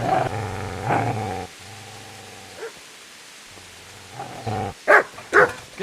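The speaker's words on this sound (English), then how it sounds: "Get away, you mutt!" Dog growling at a man in the video game Kingdom Come: Deliverance, a low, rumbling snarl in near, sustained bursts with brief pauses, ending in a few sharp louder barks or snaps.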